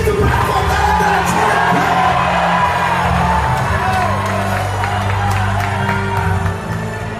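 A church congregation shouts and cheers, a loud crowd of yells and whoops that keeps up continuously before easing slightly near the end.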